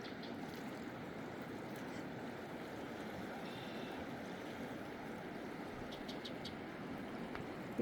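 Steady broadband rush of the Klamath River flowing, continuous and fairly soft, with a few faint high chirps from insects or birds.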